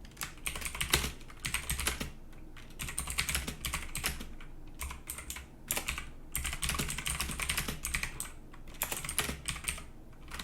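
Steady, fast typing on a light PICTEK mechanical keyboard with clicky blue switches: dense bursts of sharp key clicks with brief pauses between words, close and alone.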